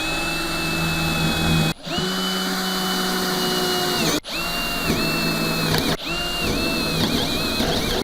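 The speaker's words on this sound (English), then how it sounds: "Now let's go ahead and drill." A cordless drill whines steadily at high speed, stopping and restarting several times as holes are bored, loud and close with no talk.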